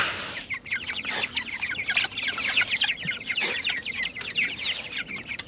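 A flock of backyard chickens clucks busily nearby, overlapping soft calls in a continuous chattering murmur with occasional louder squawks.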